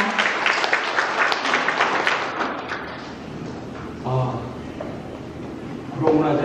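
An audience applauds at the opening ceremony of an international photo exhibition at a gallery run by the Guro Cultural Foundation, with dense clapping that tapers off, followed by a few thumps and scattered sounds as a speaker approaches.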